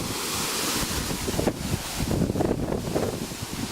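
A waterfall in Vietnam roars as a steady broadband rush of falling water, with gusty wind buffeting the microphone and a few brief louder surges, no voices.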